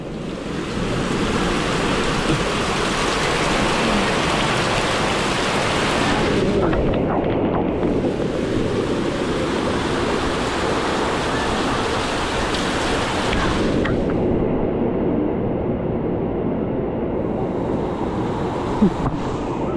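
Very heavy rain pours down during Typhoon Crising over a flooded area, a loud, continuous roaring wash that swells and eases slightly in places, with no voices over it.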